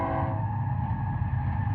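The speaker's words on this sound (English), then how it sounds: "You can hear the train going by." A train going by in the desert, a continuous low rumble with steady droning tones at moderate distance, no talk over it.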